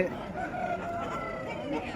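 A rooster crows amid the bustle of a Peeleru chicken market, its call rising over steady crowd noise and nearby voices.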